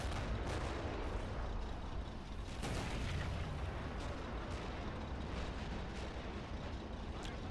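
A 210mm artillery gun firing in a trench battle game, a loud continuous rumbling roar of distant blasts and battlefield noise with several sharper booms, no speech.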